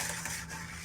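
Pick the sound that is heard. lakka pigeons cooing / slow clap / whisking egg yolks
whisking egg yolks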